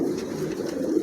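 Two female pigeons, an Andalusian and a silver mosaic-coloured bird, give a soft, steady, low cooing that fills the short stretch without a break. Nobody speaks.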